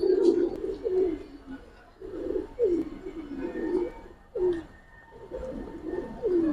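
Giribaz pigeons coo repeatedly in low, throaty rolling phrases, close and steady, with faint background noise between calls.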